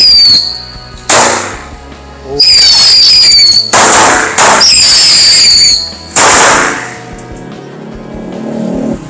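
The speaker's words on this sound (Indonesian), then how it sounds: "Mercon tikus berhasil menyala teman-teman." Loud bursts of hissing and whistling squeals erupt several times in close succession from a spinning ground firecracker, sharp onsets with crackling between, nearby and outdoors.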